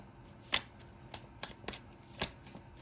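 Tarot cards being shuffled by hand, a run of soft, brisk riffling bursts at uneven intervals, close and fairly quiet, with no talk.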